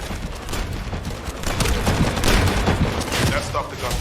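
Gunfire in the PS5 video game The First Descendant: dense, continuous bursts of shots and booms layered over game noise, loud and up close throughout the four seconds.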